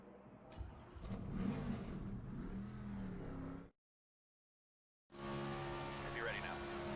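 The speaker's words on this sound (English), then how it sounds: "Drivers, start your engines!" Race car engines roar at the start of an Xfinity race at Daytona in the NASCAR 25 video game. A dense, steady engine drone cuts out to silence for over a second, then resumes.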